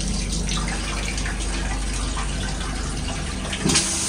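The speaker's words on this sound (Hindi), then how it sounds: "फ्लश चल रहा है, क्लीन है" A toilet flushes in the washroom of a Tejas Express train, a loud steady rush of water running throughout with a brief clunk near the end.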